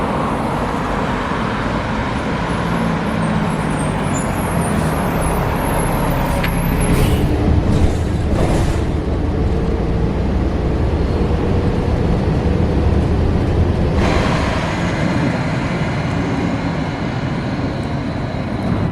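A TriMet city bus idles and moves with a low rumbling engine, while sharp hissing bursts of its air brakes release partway through over steady traffic noise.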